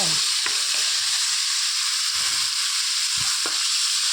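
Tomatoes sautéing in a clay pot for fish curry, a steady bright hiss of frying with a few soft stirring knocks, close and continuous.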